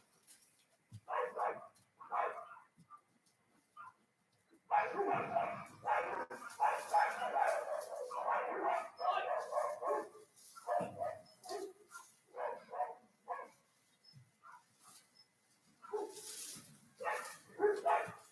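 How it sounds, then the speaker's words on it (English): Dogs bark and yelp in scattered bursts, with a stretch of snarling, growling scuffle in the middle, fairly close and fairly quiet overall. "Excuse me, my dogs are fighting."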